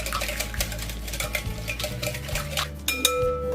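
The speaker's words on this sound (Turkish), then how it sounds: "öncelikle birazcık karıştırayım, yumurta dağılsın" Egg and oil being stirred in a bowl for cookie dough make clattering, scraping sounds of a utensil against the bowl, with some wet mixing noise over a steady low hum, ending in a couple of sharper knocks.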